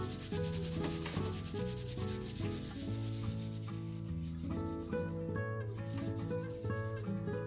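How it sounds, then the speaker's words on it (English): Fingertips rub soft pastel into paper in a steady, dry, scratchy rubbing that continues without pause beneath background music. "I'm now gonna use my fingers and rub some of this in"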